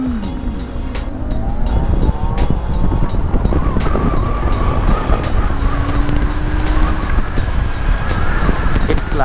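Revolt RV400 electric motorcycle accelerating hard in its third riding mode, a rising motor whine over loud wind buffeting and road rumble recorded from the rider's position.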